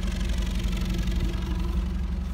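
Exhaust of a 1968 Land Rover Series 2a long-wheelbase military crash rescue ambulance, a steady low idling rumble with a regular throb, close and continuous, no talk.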